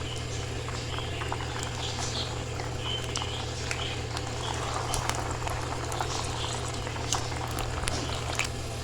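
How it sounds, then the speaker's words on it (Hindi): Potato kababs deep fry in hot oil with a steady, even bubbling hiss and scattered soft pops, continuous and fairly close. "ये देखें जी, ये फ्राई हो रहे हैं"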